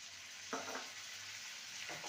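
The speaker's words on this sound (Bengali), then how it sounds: "পেঁয়াজটাকে ভালো মতন কষিয়ে নেব" Onion paste sizzles quietly in a pan over ginger and garlic already browned, with two brief bursts of stirring scrapes against a steady low frying hiss.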